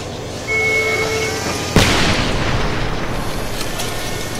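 A grenade blast in the war shooter Homefront: a sudden loud boom erupts partway through and rolls into a long, noisy rumble over a steady background of game ambience.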